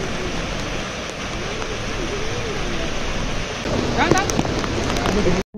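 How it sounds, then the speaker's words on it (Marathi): Dense, continuous hiss of monsoon drizzle and falling water at Adai Waterfall, Panvel, nearby. A voice speaks briefly near the end. "धुक असा रिमझिमता पाऊस आणि धबधबे, ह्याशिवाय पावसाळ्याची गंमत नाही हो."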